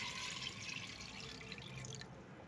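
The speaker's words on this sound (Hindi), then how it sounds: "और तकरीबन 4 गिलास इसमें पानी जाएगा क्योंकि बीफ का गोश्त है।" About four glasses of water poured into a pot of beef and turnip curry (shalgam gosht), a steady, close splashing stream that runs unbroken for the whole stretch with no talk.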